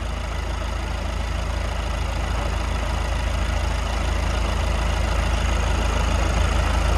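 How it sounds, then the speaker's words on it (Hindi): A 2024 Kia Carnival Limousine's engine idles with a steady, continuous low hum and no change in speed, close and alone with no talk. "और देखिए गाड़ी का जो इंजन स्टार्ट हो चुका है, ये आपको पहले आप साउंड सुने इस गाड़ी के इंजन का।"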